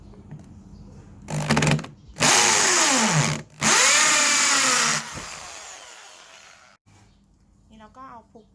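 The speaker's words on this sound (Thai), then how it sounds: "นี่เราก็จะใช้ สว่านนะคะ เจาะตรงจุดที่เรามาร์กไว้เมื่อกี้ 4 จุด" A power drill bores holes at marked points on a wall in several loud bursts of whining, revving drilling separated by short pauses, close up, followed by quieter handling sounds at the end.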